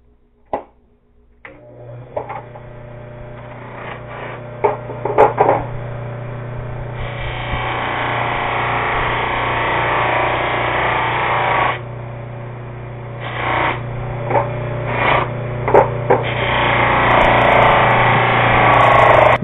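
A cotton denim buffing wheel charged with green chrome rouge spins up and polishes a rope-filed metal blade, giving a steady motor hum with rough rubbing surges and a few sharp knocks as the workpiece is pressed on.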